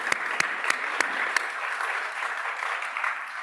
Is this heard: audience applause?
yes